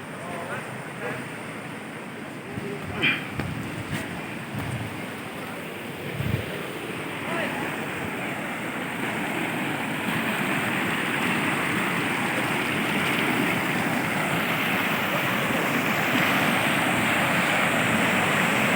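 Steady rushing water flows continuously throughout, a broad wash of noise from a river over large rocks, with a few faint thumps early on.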